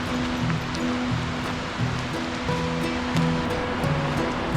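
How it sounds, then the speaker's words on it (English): A winter creek in the Marble Mountains of Northern California rushes strongly after heavy rain and snow, a steady, full roar of flowing water close by with no voices. "The creek is flowing good right now."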